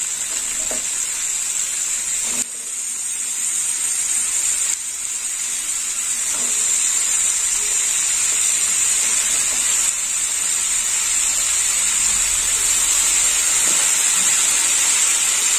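Snake gourd pieces sautéing with turmeric in hot oil produce a steady, loud sizzle and hiss for the whole stretch, with occasional stirring scrapes and no voices.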